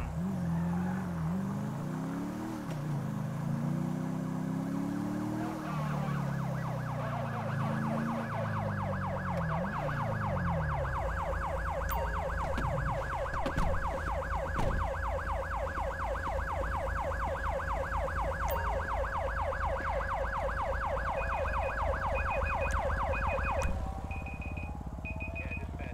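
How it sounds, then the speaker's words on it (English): A police siren in Grand Theft Auto V wails steadily, rising and falling at first and then switching to a fast pulsing warble, over continuous engine rumble. "Where's that siren coming from?"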